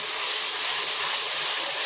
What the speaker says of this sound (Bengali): এবারে রসুন বাটাটা দিয়ে দেবো, রসুন বাটা দিয়ে দেবো, পেঁয়াজ আর রসুন সাথে ভেজে নেব।